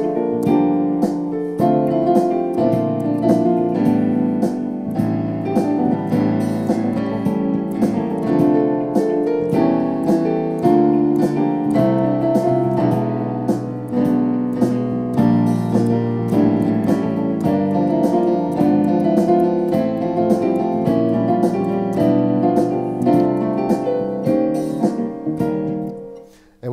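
A Casio Privia PX-350 88-key digital piano plays a piece in arrangement mode, with a full backing of steady rhythmic percussion, bass and chords under the melody, continuous and loud until a short fade at the end.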